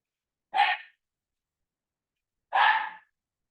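Dog barking during an online call, two short sharp barks about two seconds apart, clear and fairly close, with silence between them.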